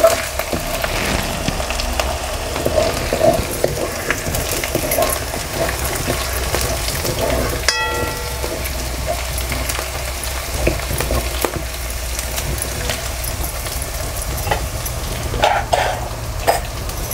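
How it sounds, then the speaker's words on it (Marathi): Dill leaf vegetable dish being stirred and mixed in a pan for a traditional village-style preparation, giving steady scraping and soft sizzling throughout, close and moderately loud with no talk. "छान असं सगळं मिक्स करून घ्यायचं आहे."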